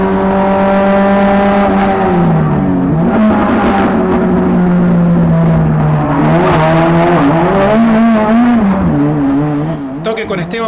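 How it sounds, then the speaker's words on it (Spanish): Touring race cars accelerate hard during a race, their engines droning loudly and rising and falling in pitch as they shift and corner, with a commentator talking over the whole stretch. "cuando se da cuenta sigue acelerando Matías Viñó y ahí pierde la punta"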